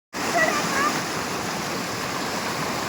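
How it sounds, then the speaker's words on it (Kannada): Shallow village river flowing with people playing nearby, a steady rushing wash of water that starts abruptly, slightly louder at first and then even, with faint distant voices underneath. "ಈಗ ಹೊಳೆ ಹತ್ರಕ್ಕೆ ಬಂದಿದ್ದೀವಿ"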